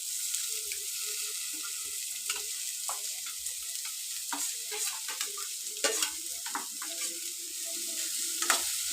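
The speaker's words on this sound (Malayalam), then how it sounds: "സവാളയുടെ നിറം മാറുന്നത് വരെ വഴറ്റി കൊടുക്കുക" Chopped onions sautéing in a pan with garlic while cooking erachi puttu: a steady close sizzle with scattered scraping stirs of a spoon throughout, no voices.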